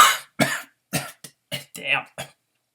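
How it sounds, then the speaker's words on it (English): A series of harsh, close coughs in quick bursts, about six or seven hacking coughs with short pauses between them. "Where does this cough come from?"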